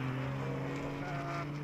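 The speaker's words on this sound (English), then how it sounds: "You can hear him just dancing on the throttle." A GT race car at Laguna Seca with the driver blipping the throttle, giving a steady droning engine note with strong low harmonics and slight shifts in pitch, continuous and fairly loud throughout.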